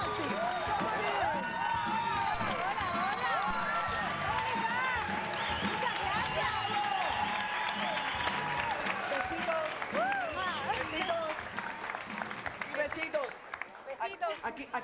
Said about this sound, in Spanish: Y un aplauso para las bombas sexy